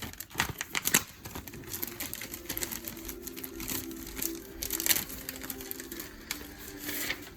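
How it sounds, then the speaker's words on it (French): Paper crinkles and rustles in short bursts as a single paper sheet is peeled away during the unboxing of a Dragon Quest Hyunkel ARTFX J figure, with a faint mechanical hum underneath. "On va retirer le papier."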